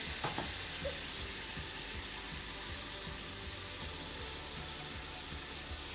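Salmon sizzles steadily in a pan with red wine vinegar and honey, a loud continuous frying hiss with bubbling spatter and no talk.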